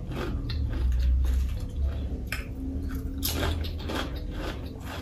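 Someone bites and chews a crunchy snack up close, giving repeated crisp crunches in an uneven rhythm over low background rumble, with no talking.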